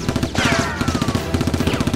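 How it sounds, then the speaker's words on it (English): Rapid bursts of Nerf blaster fire in a staged police action fight, a steady rattling string of sharp pops running almost continuously, with a brief gap near the start and a whooshing sweep overhead. "The boss immediately shoots Jack"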